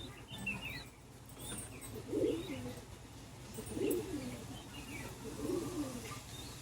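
Pigeons in a domestic loft cooing in soft, low repeated phrases, three distinct coo bursts spaced a couple of seconds apart over faint background chirps and ambient noise.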